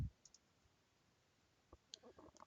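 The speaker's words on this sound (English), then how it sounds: "I click on that" A computer mouse clicks a couple of times, quiet and close, with faint desk taps in an otherwise still room.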